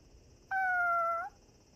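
A cat meows once, a single clear drawn-out call of under a second, close and fairly loud against a quiet background, in a Japanese anime scene where a stray cat has been brought home.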